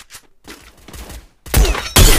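Gunfire in the battle royale video game Free Fire: scattered crackling shots at first, then dense, loud bursts of rapid fire near the end.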